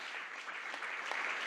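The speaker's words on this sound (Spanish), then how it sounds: "fuerte el aplauso también para él." An audience at a book presentation gives steady, soft applause, heard faintly and somewhat distant for a brief moment.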